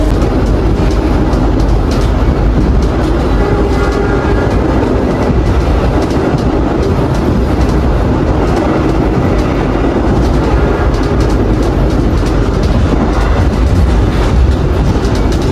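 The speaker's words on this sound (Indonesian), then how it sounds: "kereta api Wijaya Kusuma sudah sampai di stasiun Mojokerto" The KA Wijayakusuma economy premium passenger train rolls along the rails with a loud, continuous rumble and rhythmic clickety-clack of its wheels, heard close up from on board.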